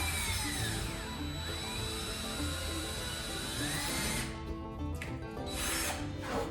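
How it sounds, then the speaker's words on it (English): A power drill bores a hole while building a DIY pendant light, a loud continuous whine with rising and falling pitch that dips briefly near the end before revving again, heard alone and close. "Hole is drilled."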